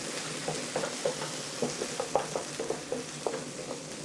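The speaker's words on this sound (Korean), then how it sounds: "노릇노릇하게 볶아주세요." Potatoes seasoned with salt and pepper sautéing in a pan until golden, a steady oily sizzle with regular soft scraping strokes of a spatula, close and fairly quiet, without speech.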